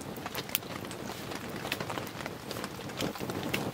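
Steady winter rain in Southern Ontario patters on a surface nearby under cedars, a constant soft hiss broken by scattered sharper drips.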